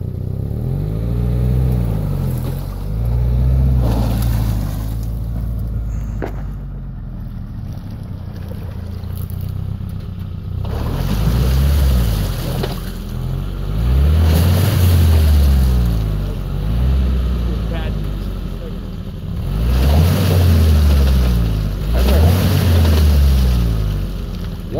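A Geo Tracker drives through a creek, its engine droning and surging in repeated loud waves over rushing water, continuous and close, with no speech.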